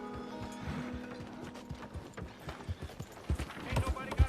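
Horse hooves clip-clopping in Red Dead Redemption 2, a steady run of hoofbeats that grows louder and more pronounced toward the end, with a voice talking over the gait.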